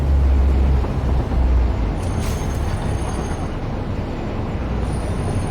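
Train engines in the video game Satisfactory give a loud, low, rumbling drone with rolling rail noise that holds steady, plus a brief hiss partway through.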